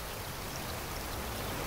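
Stormy rain in the ocean survival game Raft pours as a dense, continuous hiss of falling water, steady and fairly loud throughout, with no voices.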